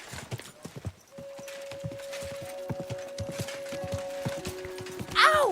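Horse hooves clip-clop steadily at a walk in Kingdom Come: Deliverance 2, a regular rhythm of close thuds layered with in-game ambience, a tonal music line and a brief whinny-like sound near the end.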